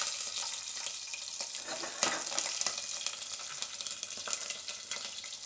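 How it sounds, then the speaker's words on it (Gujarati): Green chillies frying in hot oil give off a steady broadband sizzle with crackling pops, moderately loud and close, with no one speaking. "તેલ આપણું ગરમ થઈ ગયું છે, તો એમાં આપણે પહેલાં મરચાં નાખીશું લીલા"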